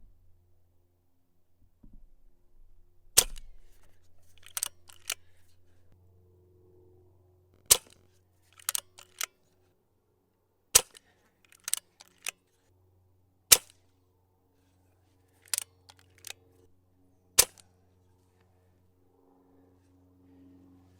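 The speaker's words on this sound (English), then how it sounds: "let's fire 5 shots of those over the chronograph" Brocock Concept XR .22 air rifle fires H&N slugs over a chronograph: sharp, isolated snapping shots spaced a few seconds apart, with faint handling clicks between them in an otherwise quiet room.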